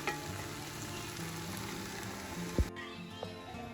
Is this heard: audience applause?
no